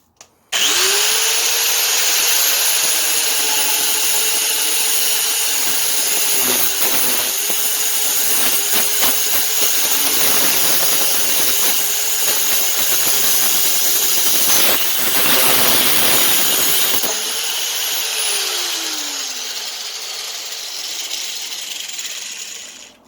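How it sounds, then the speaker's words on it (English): An angle grinder cutting through a cheap metal antenna pole: loud, steady high whine with harsh grinding hiss held for about twenty seconds, dipping slightly as it bites, then winding down at the end. "Here's my angle grinder, and this looks about right."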